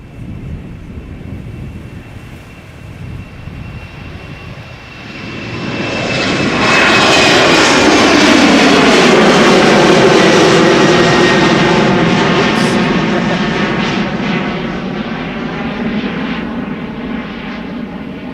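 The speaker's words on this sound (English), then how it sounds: "Next up, KLM flight 603 to LAX." KLM Boeing 787-10 Dreamliner jet at Amsterdam Schiphol airport, engine roar swelling from a distant hum into a loud, sustained rushing drone with a sweeping tonal whine, then easing slightly as it passes.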